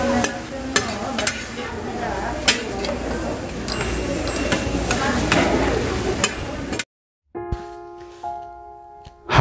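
Beef tripe gopchang stir-fried with kimchi and rice sizzles steadily on a hot pan at a market restaurant, with spatula clicks and scraping throughout, then the frying cuts off abruptly near the end as a brief electronic tone follows.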